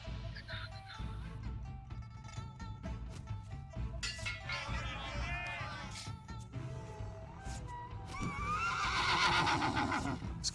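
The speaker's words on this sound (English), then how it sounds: "It's a burning horse, so it's kind of like an enemy." A burning horse neighs in the video game Battle Realms, a loud whinny rising near the end amid game music, clinking effects and bursts of battle sounds.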